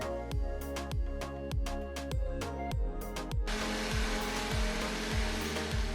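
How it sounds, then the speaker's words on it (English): Small Ninja smoothie blender blending chili sauce ingredients: the motor first pulses in short revving bursts, then runs into a continuous, loud whirring grind as the mixture blends. "I am using my little Ninja smoothie blender because I'm obsessed with it"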